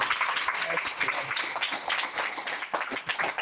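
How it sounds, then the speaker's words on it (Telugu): Congregation in a church clapping hands together, a dense, continuous patter of many hands filling the room at steady loudness throughout, with no break. "నమ్ముతున్నట్లయితే దేవుని నామానికి మహిమ కలుగురితే 2 చేతులు ఎత్తి చప్పట్లు కొడదామా?"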